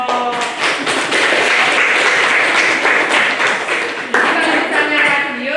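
A classroom of students applauds a student group, dense steady clapping close and loud for several seconds, with a brief surge partway through and a few voices mixed in.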